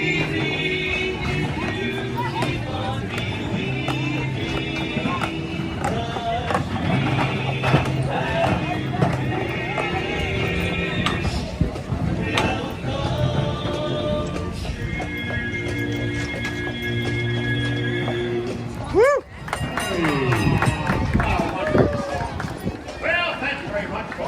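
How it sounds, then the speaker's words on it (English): A real horse pulls a trolley down Main Street, USA at Walt Disney World, its clip-clopping hooves steady under loud background music, with a brief whinny partway through. "We're being pulled by a real horse."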